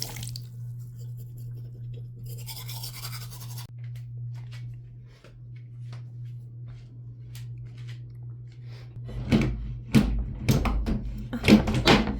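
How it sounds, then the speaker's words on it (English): A toothbrush scrubs teeth in short bursts over a steady low electrical hum, the brushing strokes growing louder and closer near the end, with no talking. "I'm just brushing my teeth."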